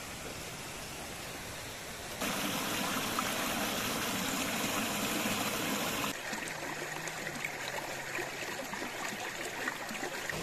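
Bandaje waterfall in a forest, running low after light rain, a steady broadband rush of falling water that jumps louder for a few seconds in the middle, then settles back to a constant roar.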